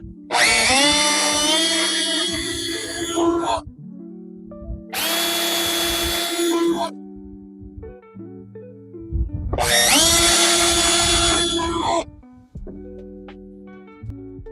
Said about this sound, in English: Using your drill and your 1/8 inch screw, go ahead and drill holes in your shelf.